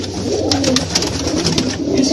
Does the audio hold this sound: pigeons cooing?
yes